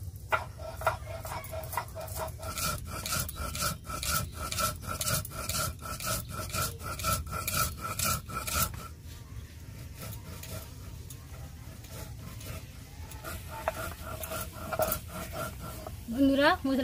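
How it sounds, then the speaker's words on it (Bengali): Spices are ground by hand on a grinding stone, a rhythmic rasping scrape repeated in quick strokes, close and prominent, turning looser and more irregular later, with a voice speaking briefly near the end. "আমি মশলাটা গুঁড়ো করে নেব"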